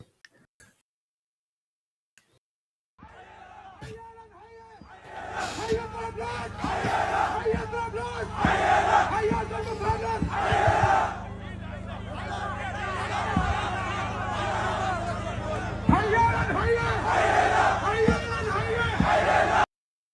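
A large crowd at a street protest in Vienna cheering and chanting in rhythmic bursts, starting after a few seconds of near silence and swelling into loud, repeated group shouts with scattered whistles.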